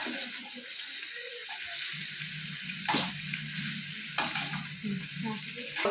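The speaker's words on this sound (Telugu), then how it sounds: "హైలో మీడియంలో పెట్టుకొని బాగా వేంపుకోవాలి బాగా క్రిస్పీగా వచ్చేలాగా వేంపుకోవాలి" Sliced bitter gourd fries in hot oil in a pan over medium-high heat, a steady close sizzle broken by occasional scraping stirs of a spatula.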